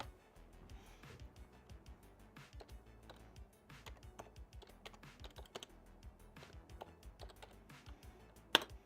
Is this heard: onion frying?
no